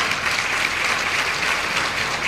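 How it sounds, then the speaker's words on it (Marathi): An audience of anganwadi workers at a district event claps hard, a dense, loud, steady applause filling the whole stretch. "त्यामुळे स्वतःसाठी टाळ्या, खूप खूप जोराने टाळ्या."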